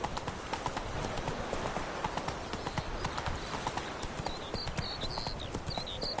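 A horse in the video game The Witcher 3 trots after being spurred, its hooves clip-clopping in a steady, even rhythm on hard ground, with faint ambient sound behind.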